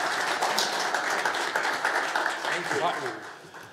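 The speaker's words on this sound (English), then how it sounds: "how about a big round of applause for Stan?" An audience applauds for speaker Stan Matwin at a live-streamed talk, with dense, steady clapping filling the room and slowly tapering off toward the end.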